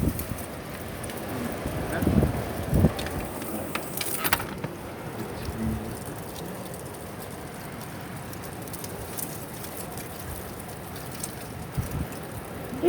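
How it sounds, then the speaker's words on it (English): Strong wind gusting outdoors on a Colorado day, a steady broadband rush buffeting the microphone with louder gusts in the first few seconds, then a continuous roar. "It don't get windy like this normally out here, does it?"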